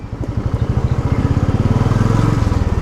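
A ten-year-old motorcycle with a worn engine idles close by in a rapid, even thumping putter that stays steady throughout.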